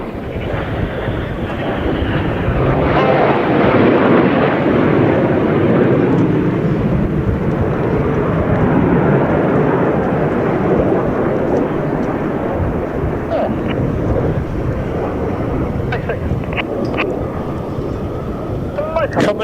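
At the NATO Days and Czech Air Force Days air show, Red 9 of the Red Arrows passes at over 700 km/h. Its jet roar fills the whole stretch as a steady, loud, wind-buffeted rush, with a voice talking beneath it.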